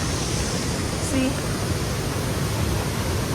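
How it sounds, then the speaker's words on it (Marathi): Rain falls near a waterfall at Bhandardara, making a dense, even hiss of water that stays steady and unbroken for the whole short stretch. "आता पण इथे पण पाऊस चालू झाला आहे बरोबर ह्या साईडला"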